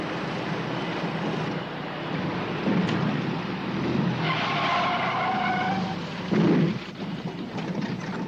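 Car tires skid and screech in a TV drama scene, a sustained squeal that swells and fades over several seconds with rumbling engine and road noise around it, loud and close with no talk.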